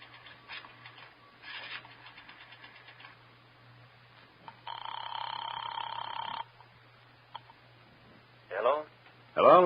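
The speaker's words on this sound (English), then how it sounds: "dropped a nickel in the slot, and dialed" Payphone rotary dialing in an old-time radio detective drama, a nickel dropped in the slot first, then a steady tone and quick clicking dial pulses, with brief narration and a low hum underneath.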